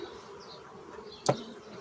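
Honey bees buzz steadily around a hive, a low continuous hum close by with one brief louder swell as an insect passes near.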